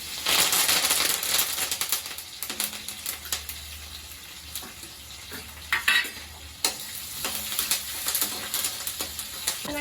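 Mustard seeds and crushed garlic hit hot oil in a pan, a loud crackling sizzle with sharp pops and metallic clinks of stirring over a continuous frying hiss.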